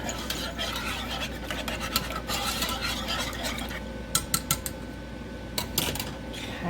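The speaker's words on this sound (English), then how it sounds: "we're gonna kind of keep whisking this" Eggnog mixture whisked in a pot on low heat: a steady close scraping and swishing with sharp clinks of the whisk against the metal rim, with a little talking.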